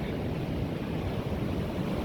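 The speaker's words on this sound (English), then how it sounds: "Before the waves come in and give us wet feet" Ocean surf washing in on a beach at Peniche or Figueira da Foz, Portugal: a steady, loud, close wash of breaking water with wind rumble, no talk.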